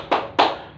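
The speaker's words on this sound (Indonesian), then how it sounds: "bersama-sama berikan tepuk bagus dulu supaya menjadi motivasi juga buat yang lainnya" Two sharp group claps in quick succession, close and loud, from a class giving a rhythmic praise clap, with no talking over them.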